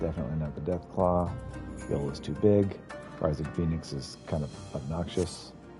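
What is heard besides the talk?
No distinct noise like a dog, phone or traffic.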